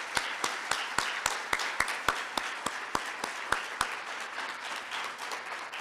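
Audience at a graduation ceremony applauding, a soft crowd patter of hands carried by a sharp, evenly spaced close clap that beats steadily before stopping, the spread-out clapping tailing off afterward.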